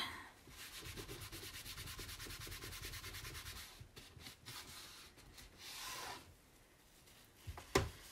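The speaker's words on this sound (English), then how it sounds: "It's coming, you just got to rub it a little bit." Steady rubbing on a vintage typewriter craft piece to take paint off, a close, soft scrubbing with a fast regular back-and-forth rhythm that stops partway through, followed by a brief knock near the end.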